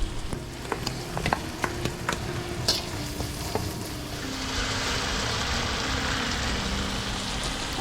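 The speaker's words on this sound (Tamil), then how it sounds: "இதெல்லாம் சேர்த்து நல்லா ஸ்டர் பண்ணிக்கோங்க." Tomatoes, turmeric and ground ginger-garlic paste fry in a pan while being stirred for a Singapore-style chilli fish, with sharp scraping taps early on giving way to a steady, close sizzle.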